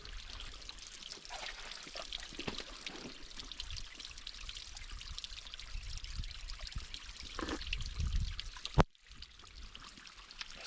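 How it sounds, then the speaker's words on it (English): Spring water trickling and pouring down along the Murchison River in Western Australia, a steady close flow of splashing water throughout with a brief sharp knock near the end. "we've got such a awesome little spring that must be happening up here somewhere"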